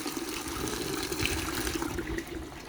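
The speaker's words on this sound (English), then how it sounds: "I just threw a bucket of water on." Water thrown from a bucket splashes and pours steadily across a surface, a continuous close rushing wash that holds for a few seconds without a break, with no voices.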